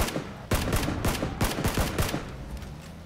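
Rapid bursts of gunfire in PUBG, loud and close, with sharp repeated shots in quick clusters over about three seconds and echoing tails between volleys.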